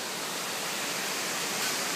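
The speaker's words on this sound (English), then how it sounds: "Yeah, it's a waterfall." Waterfall in Malaysia, a steady roaring rush of falling water filling the scene, loud and even throughout with no voices.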